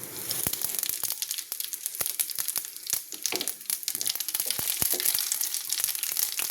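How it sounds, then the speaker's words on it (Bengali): Whole cumin seeds and bay leaves frying in hot oil give a close, steady crackle of dense sizzling pops and sharp snaps, sounding alone throughout. "তো দেখো জিরেগুলো মোটামুটি ভাজা হয়ে গেছে"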